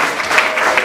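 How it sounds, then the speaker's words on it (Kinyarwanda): A church congregation claps in praise, with dense, rapid applause filling the whole brief moment at a steady, lively level. "Reka dukomere Imana yacu amashyi."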